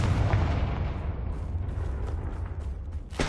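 Fiery spell blasts rumble through a fantasy video game, low booming explosions rolling continuously over about three seconds with a sharp burst near the end.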